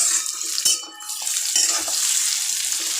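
Chopped onion with dried red chilli sautés in a pan for a potato bhaji, a close steady sizzle marked by scrapes and clinks of a spoon against the pan, with no voices.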